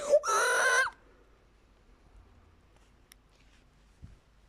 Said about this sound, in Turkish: Şakaydı o bağırma.